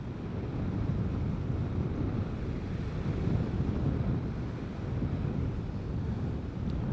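Steady, loud wind rush on the microphone while riding a Vespa GTS 300 Super Sport scooter on a sunny day, a continuous low roar with no talking.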